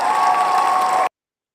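A canned cheering-and-applause sound effect plays loud and steady, a bright crowd roar with a sustained tone through it, then cuts off abruptly to silence after about a second.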